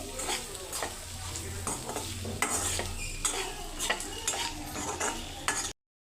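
Okra frying in a pan is stirred and mixed with a utensil, giving repeated rhythmic scraping strokes over a soft sizzle, close and with no talk.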